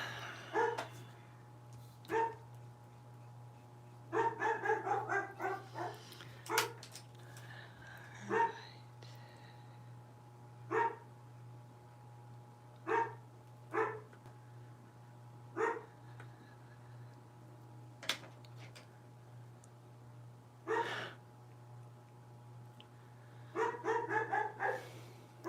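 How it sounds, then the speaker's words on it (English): A dog named Cooper barks at the mailman in short, separated bursts and clusters of loud barks across the whole stretch, with a steady low hum running underneath. "Barking at the mailman."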